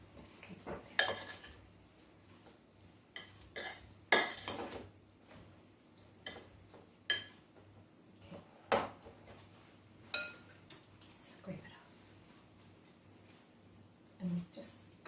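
Plums are stirred in a baking dish for a cobbler, with irregular clinks and scrapes of a utensil against the dish, some sharp knocks standing out, while a person talks quietly between them.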